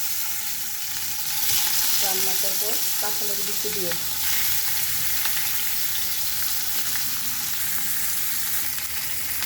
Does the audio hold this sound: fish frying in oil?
yes